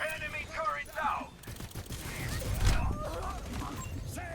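Gunfire in a video game, rapid bursts and thuds mixed with game effects and a heavier impact partway through, under someone talking.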